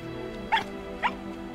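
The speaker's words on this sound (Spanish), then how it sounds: "¿Dónde está ladrándome?" Two short dog barks in the video game RIME, spaced about half a second apart over a steady musical background, fairly close and clear.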